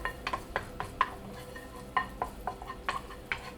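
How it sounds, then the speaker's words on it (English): Sliced fresh garlic softening in a frying pan, with a utensil stirring and clinking against the pan in irregular taps over a faint background sizzle. "all we're gonna do is just soften up our garlic a smidge in the frying pan"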